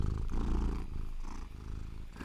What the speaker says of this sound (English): Can you do some purring?